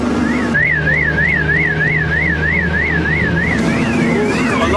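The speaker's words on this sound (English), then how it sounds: "Alarm's going off." A loud car alarm wails nearby in a village, its tone sweeping up and down in a fast, steady cycle before shifting to a slightly different pattern near the end.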